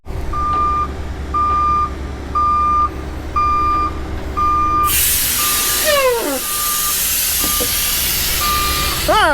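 A logging truck's lift axle dumps air in a sudden loud hissing rush that trails off slowly, following a run of regular reversing beeps nearby.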